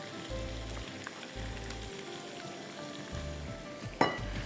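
Minced meat, beef, chicken or mutton, frying in sesame oil in a pan, giving a steady close sizzle with occasional stirring scrapes and a sharp clatter near the end.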